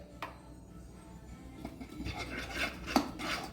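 Chicken marinade with lemon juice mixed in a bowl, quiet clinks and scrapes of a spoon against the bowl with soft wet rubbing, close and faint.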